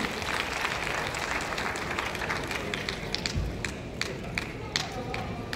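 Audience applause at an award ceremony for a state sharad honours event, steady moderate clapping from a crowd, continuous and somewhat distant, with scattered louder claps throughout.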